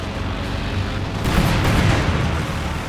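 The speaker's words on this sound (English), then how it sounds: "another fragmentation bombing run again on a field gun" Several heavy explosions from a fragmentation bombing run on a field gun in Company of Heroes 2, booming loudly and rolling together into a dense, sustained rumble with a sharper burst near the middle.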